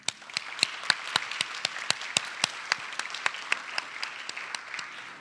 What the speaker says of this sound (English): Let's all give a round of applause to all the mentors, administrators, and teachers sitting in this room as well.